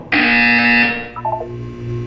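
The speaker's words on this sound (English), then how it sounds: "You will hear a buzzer." A loud harsh buzzer in the video game Portal 2 sounds for about a second, then fades into a soft electronic chime and low hum.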